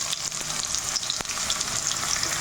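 Cumin and mustard seeds fry in hot oil for tempering with a dense, steady, loud sizzle full of tiny crackles and pops, heard up close with no talking.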